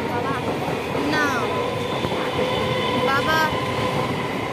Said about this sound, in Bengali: বসে আছি, ট্রেন ঢুকে গেছে।